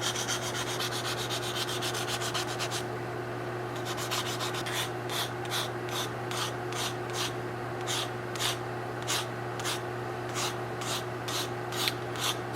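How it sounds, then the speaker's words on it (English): Hand sanding the freshly cut end of a wooden piece, soft rhythmic rasping strokes repeating about once a second, close and quiet over a steady low electrical hum. "now I'm just kind of sanding it up"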